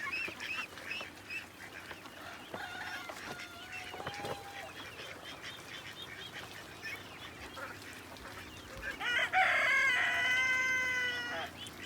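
Poultry calls from chickens and ducks on a duck farm fill the scene: clucks and squawks throughout, with a louder burst of honking and crowing near the end, over running fresh water.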